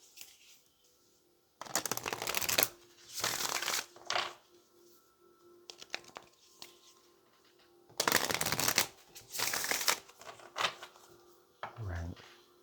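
A Moonology oracle card deck is shuffled in two separate rounds of quick, crisp riffling bursts, close and fairly loud, with quieter handling noises in between; no voice over the shuffling.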